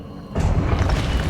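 In Hogwarts Legacy, an Expelliarmus spell goes off as a sudden low boom that cuts in after a quiet moment and then rumbles on with crackling energy.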